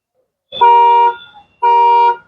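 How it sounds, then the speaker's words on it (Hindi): A Tata Sierra car alarm sounds through the horn, two long steady blasts, each about half a second, separated by a brief pause, loud and close. "तो ये सायरन बजना, इसका अलार्म बजना स्टार्ट हो गया।"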